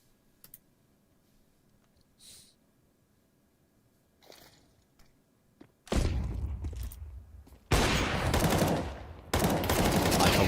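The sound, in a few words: gunfire in Counter-Strike video game match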